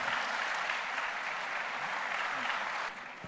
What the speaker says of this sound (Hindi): तालियों के साथ जोरदार इस्तकबाल करें विशाल साहब